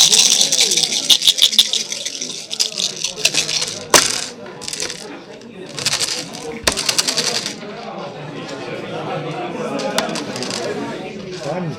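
Dice rattle and clatter in clusters of sharp clicks during a tabletop game, loud and close, with people talking throughout.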